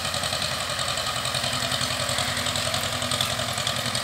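An Escort 335 tractor engine runs steadily at a slow, loaded idle while working a 7x7 disc harrow in a field, a close, continuous low diesel throb with rhythmic knocking pulses and no speech.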